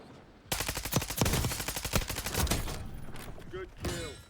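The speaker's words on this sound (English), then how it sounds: "Not really sure where those bullets came from" Automatic rifle fire in Call of Duty Warzone, with a Lachmann 5.56 in play: dense rapid bursts crack loudly and continuously for several seconds, with scattered distant shots and brief voice fragments mixed in.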